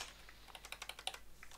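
Rapid clicking keystrokes on a computer keyboard, about a dozen sharp taps in quick irregular succession, close to the microphone.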